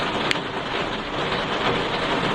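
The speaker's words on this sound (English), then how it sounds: "Do you find rain relaxing?" Steady heavy rain falling outdoors, a dense continuous hiss throughout with one brief sharp tap near the start, and no talking.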